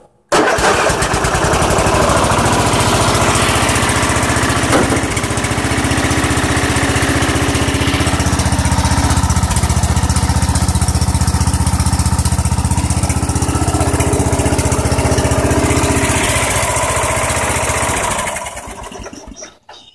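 A cold small petrol engine on a Scotts machine, started without choke, runs steadily and loudly for the whole stretch, a continuous buzzing drone that cuts off near the end.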